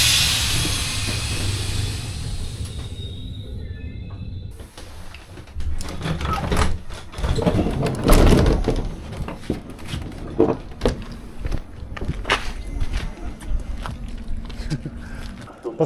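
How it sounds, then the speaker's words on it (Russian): An old passenger train at a station on the direct Stuttgart to Nuremberg line: steady rumbling and hissing with clanks and rattles, moderately loud and continuous, with some voices in the background. "Посмотрите, какой старенький поезд."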